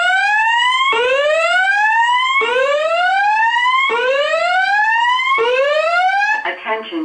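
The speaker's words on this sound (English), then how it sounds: "The signal you have just heard indicates a report of an emergency in this building." A building fire alarm sounding indoors: loud, repeated rising whoop tones, about one per second, then a brief electronic chime-like tail as the pattern breaks off.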